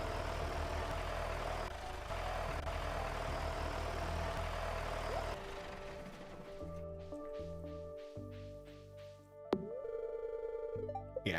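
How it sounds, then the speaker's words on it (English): A farm tractor engine in the Stardew Valley video game idles with a low, steady rumble, followed by tonal game sound effects and brief chimes near the end. "My tractor."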